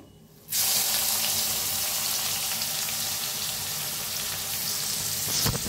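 Onion and curry leaves hit hot oil with roasted cumin and mustard seeds and erupt into a loud, steady sizzle that continues without letup, close by.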